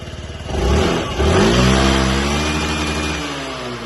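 A Yamaha Jog SA 55 fuel-injected scooter engine revs up twice, rising in pitch, then settles into a steady hum.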